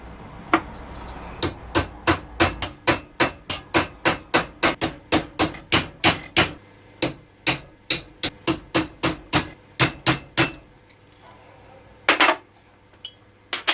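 A hammer taps a Triumph motorcycle part about two dozen times in a quick, even rhythm of sharp metallic strikes, pauses briefly, then gives a few more isolated taps.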